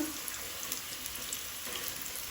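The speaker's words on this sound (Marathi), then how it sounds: "माडयेच्यो फोडी, माडयेची कापां मातशी तळपाक वेळ लागता" Goan madi (taro) slices fry in a pan with a steady, even sizzle, a constant crackling hiss with faint spitting pops and no voices.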